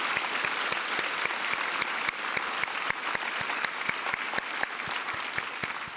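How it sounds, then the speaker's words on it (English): Steady, dense applause from an event audience at a corporate speaking session, with sharp individual claps standing out over a continuous wash of clapping, sustained at even loudness without speech. "So let's give Amanda and Nicole one more round of applause."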